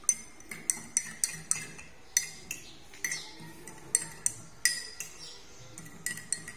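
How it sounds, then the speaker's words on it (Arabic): A spoon clinks repeatedly against a glass while spooning salt into it, a string of sharp, bright taps in an uneven rhythm, close by with no talking. "هنحط ملح في كوباية اهو"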